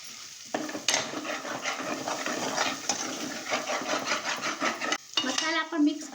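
Turmeric, red chili powder and garam masala are stirred in a pan for vegetable matar pulao: a close, continuous scraping and mixing with a soft sizzle and occasional utensil clinks against the pot.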